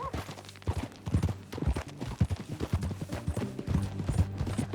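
Horse hooves clip-clopping at a steady walking rhythm while riding in Red Dead Redemption 2, close and moderately loud, with faint speech-like sounds mixed in.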